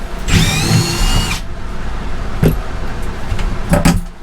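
A power driver runs Torx screws into the exterior of an old RV motorhome under rebuild: one loud, close whirring burst with a rising whine, then scattered clunks and handling noise.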